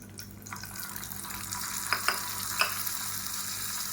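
Steady crackling sizzle of hot oil tempered with mustard seeds, urad dal and curry leaves poured into mint tomato chutney, with a few sharper pops and splatters rising over the hiss.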